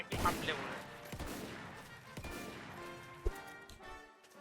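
Pistol gunfire in a Roblox base-defence battle: a burst of rapid sharp shots near the start, then several more scattered cracks and one distinct pop, set against busy game noise.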